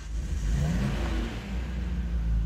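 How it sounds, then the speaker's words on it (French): A Nissan Skyline R34 NISMO engine fires up and revs, a loud close rumble rising and falling in pitch, heard alone. "On débraye, on tourne le moteur."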